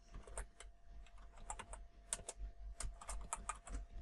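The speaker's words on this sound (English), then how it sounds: "We are going to type" Keys clatter on a computer keyboard in quick irregular bursts of taps, close and fairly quiet, with short pauses between runs of typing and no voices.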